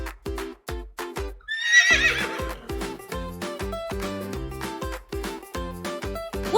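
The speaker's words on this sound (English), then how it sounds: "Horse, fast and strong," A horse gives one clear, loud whinny, set against a steady rhythmic clip-clop of hooves that runs throughout.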